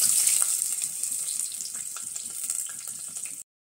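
Cumin seeds and finely chopped onion hitting hot oil, giving a bright steady crackling sizzle close up that cuts off abruptly at the end, with no speech.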